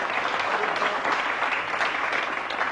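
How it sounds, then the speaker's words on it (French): Audience applause at a 1989 billiards tournament, brisk and continuous clapping from a nearby crowd that holds steady throughout without speech. "On applaudit déjà parce que c'est super."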